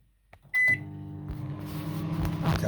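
A household microwave with a butter-flavour popcorn bag inside gives a short button beep, then switches on into a steady, close humming drone with the fan running.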